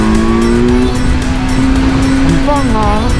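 A 2020 Kawasaki Z900 motorcycle engine drones loud and close while riding, holding a steady tone with slight pitch shifts and wind noise throughout, and people talk over it.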